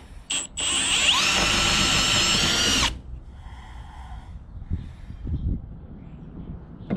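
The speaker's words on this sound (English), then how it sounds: "I'm gonna start drilling away." A power drill bores holes in a trailer floor to mount a wheel chock, whining steadily at close range for about two seconds after a brief start, then stopping, leaving faint clatter and handling noise behind.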